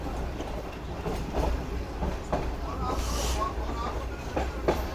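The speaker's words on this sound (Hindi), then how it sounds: "लेकिन ट्रेन जो है वो पहले ही इतना स्लो हो गई।" A Pakistani express passenger train on the Karachi to Lahore route rolls slowly along the rails, a low continuous rumble with soft irregular clacks heard from inside, fairly close and steady throughout.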